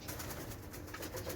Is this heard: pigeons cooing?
yes